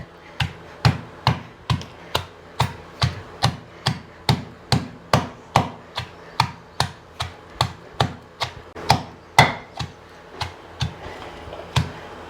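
Raw mango pieces pounded in a stone mortar for chutney: a steady series of about twenty-five sharp, evenly spaced thuds and cracks, close and crisp, with no talking.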